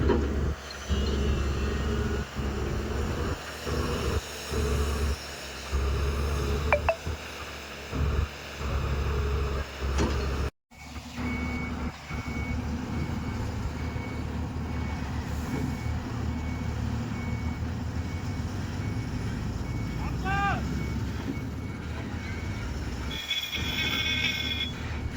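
A tipper loads a truck amid steady engine rumble, with repeated reversing beeps sounding in a run near the end and heavy machinery noise throughout.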